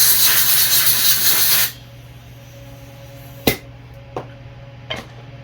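Compressed air hose blasts a part from a lawn mower clean, a loud steady hiss lasting under two seconds, then a quiet hum with a few sharp clicks and taps close by.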